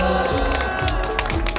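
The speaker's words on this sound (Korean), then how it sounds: "발언해주신 우리 학생분에게 큰 박수 다시 한번 부탁드립니다" A crowd at a Korean student rally applauds a student speaker. Dense clapping and some cheering run through the whole short burst, with a voice faintly audible underneath.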